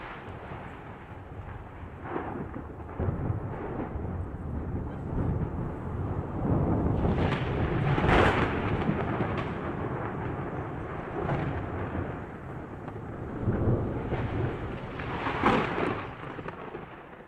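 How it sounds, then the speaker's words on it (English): Thunderstorm sound effect played back indoors: continuous rumbling rain-like wash with several louder thunder swells and cracks spread across the clip, steady and moderately loud, with no speech. "you're probably wondering how I brought a storm in here."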